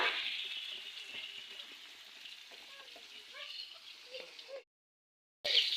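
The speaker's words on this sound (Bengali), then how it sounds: "তার জন্য আলু দিয়ে একটু ঝোল ঝোল করতে চাচ্ছি। ভালোভাবে ভেজে নেব।" Potatoes fry in a pan with a soft, steady hiss and crackle up close. The sizzle cuts out abruptly near the end, then returns.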